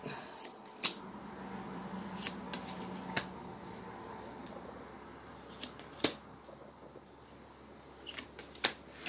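A deck of tarot cards is shuffled close by in a quiet room: steady soft riffling and sliding with sharper card snaps and taps scattered throughout, and no talking.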